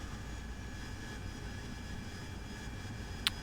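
An AV-8B Harrier jet engine in the DCS World flight simulator gives a steady, even whine and rumble that holds throughout, with a single sharp click near the end, and no talking.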